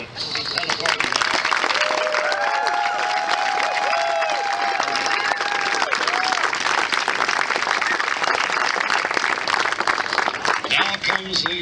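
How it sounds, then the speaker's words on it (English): A crowd at a rail trail ribbon-cutting ceremony claps and cheers in a sustained round of applause, dense and loud throughout, with voices and whoops mixed into the clapping. "one rousing round of applause for everybody that had a part of it"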